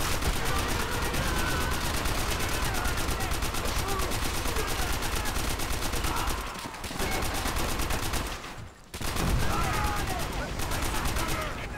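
Sustained machine gun fire rattles on in the video game Call of Duty: World at War, a dense, rapid, continuous stream of shots with only short gaps, loud and close.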